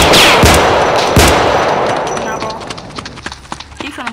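Ruger pistol gunshots in the Roblox game South Bronx: a few sharp, loud shots near the start, then fainter repeated pops that trail off.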